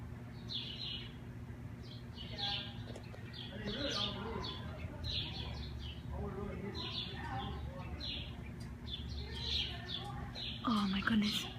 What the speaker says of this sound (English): Why are there so many birds?